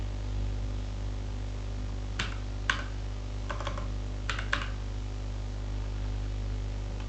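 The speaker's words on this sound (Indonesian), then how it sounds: "di sini kita ketik" A computer keyboard typing a command on a Linux machine: a handful of sharp key clicks in small bursts over a steady electrical hum, fairly close, with no talking.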